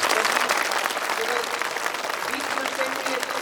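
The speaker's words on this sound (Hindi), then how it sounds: "तो मैं चाहूँगा एक बार जोरदार ताली आप लोग बजाएं" Loud, dense applause from an audience gathered for a devotional Krishna leela performance, sustained clapping filling the whole stretch with some faint voices underneath.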